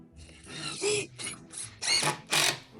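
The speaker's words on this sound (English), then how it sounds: "So I have to screw it from inside, it looks like, which is fine." A power drill drives screws into a bed frame inside a 2023 Toyota Sienna wheelchair van, heard as several short whirring bursts that grow louder and more strained, close by with brief pauses between them.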